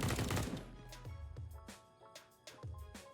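Counter-Strike match on the Inferno map, opening with a loud burst as a flashbang goes off, followed by sharp, scattered in-game gunshots and impacts at irregular intervals.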